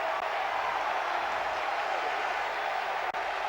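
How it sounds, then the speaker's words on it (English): A stadium football crowd in Oporto roars after a goal in a Euro 1996 qualifying match, a dense, steady wall of cheering that holds loud and unbroken throughout. "the crowd go wild here in Oporto"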